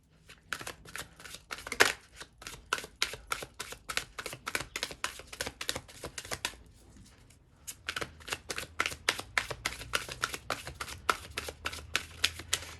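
A deck of cards is shuffled for a love card reading, fast dense riffling clicks in two long runs split by a brief pause, close and fairly quiet, with no talking.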